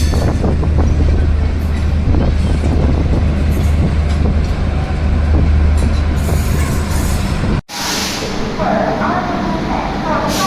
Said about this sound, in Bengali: আমাদের ট্রেন খড়গপুর এসে পৌঁছেছে